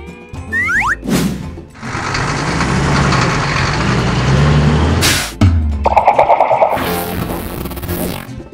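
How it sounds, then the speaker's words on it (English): A garbage truck engine running in a street scene, loud and sustained, framed by short whooshing and chirping effects, with a rhythmic mechanical chugging toward the end. "Garbage truck."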